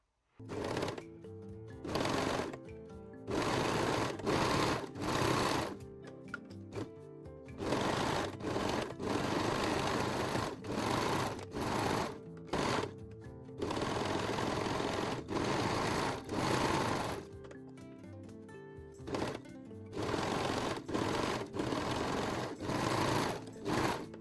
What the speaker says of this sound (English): And now sew the side seams and watch your Carmen start to take a